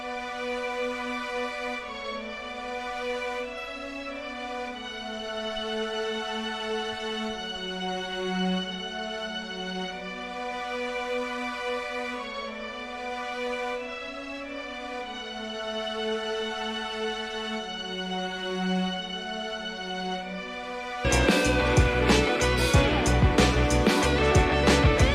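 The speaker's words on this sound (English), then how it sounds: "So, if I play the string sounds together," Layered synth string pads play together in a sustained, swelling chord progression for about twenty seconds, part of an electronic track, before a dense, loud burst of full-band sound cuts in near the end.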